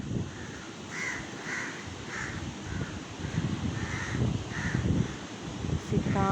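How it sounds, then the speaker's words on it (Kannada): Several crows caw repeatedly at Negombo beach in Sri Lanka, loud rhythmic calls over a rumbling wash of wind and surf by the sea. "ಕಾಗೆ ಎಲ್ಲ ಅರಿಸ್ತಾ ಇದೆ"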